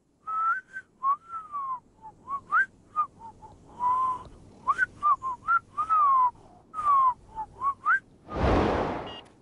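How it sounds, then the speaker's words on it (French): Someone whistles a melody alone, a run of short and held notes rising and falling in phrases, ending with a loud burst of breathy noise. "qu'est-ce que vous diriez si je vous sifflais un petit air connu"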